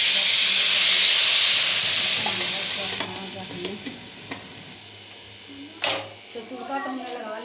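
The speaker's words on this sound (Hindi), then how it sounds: "ये देखें इसको तुड़का लगाएंगे" Tadka for kari pakora sizzles loudly in hot oil, a dense frying hiss that fades gradually over several seconds, with clinks of a utensil and a person talking underneath.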